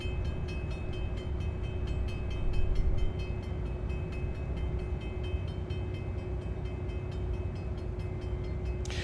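A train rolls across a rail bridge in the city-building game Cities: Skylines II, a steady loud rumble with a sustained tonal hum and faint rhythmic clicks, swelling slightly midway.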